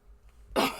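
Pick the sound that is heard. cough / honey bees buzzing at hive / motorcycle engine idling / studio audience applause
cough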